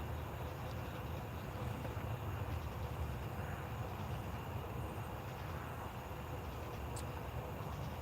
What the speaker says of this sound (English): we know that is train number 5 coming at us